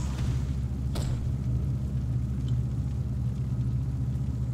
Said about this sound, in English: calls forth a huge meteor and leaves behind a fire patch